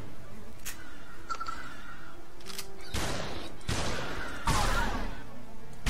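Shotgun blasts in The Walking Zombie Dead City video game: three loud close booms in quick succession, each with a decaying tail, preceded by fainter game clicks and effects.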